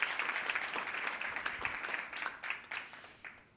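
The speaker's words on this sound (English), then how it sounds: "Let's give the Minister and the team another heartfelt applause." Applause from an awards ceremony audience for a minister and her team, a steady wash of clapping hands at moderate distance that swells and fades in waves over a few seconds.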